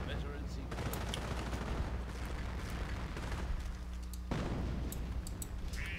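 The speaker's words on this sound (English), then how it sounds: "Howitzer firing off again." Howitzer artillery firing in the World War II strategy game Company of Heroes, with dense overlapping booms and gunfire rumbling continuously, a sharp change partway through, and a voice talking faintly underneath.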